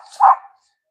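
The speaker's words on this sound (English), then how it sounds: "Sorry about all the barking." A single short dog bark, close and loud, cutting off abruptly at an outdoor plant nursery.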